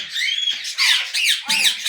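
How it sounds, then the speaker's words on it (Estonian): Harsh, shrill squawks from a large flock of parrots at a parrot centre, several loud overlapping bursts repeating through the clip with no one speaking. "Nüüd on üle 60 papagoid. Lendavad karjuvad."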